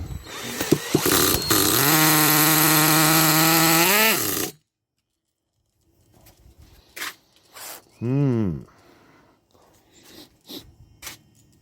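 A Kyosho Mad Force RCX Edition nitro RC monster truck engine screams loudly for about four seconds, then cuts out; afterward it sputters and revs briefly in weak, uneven bursts, struggling to keep running in cool weather.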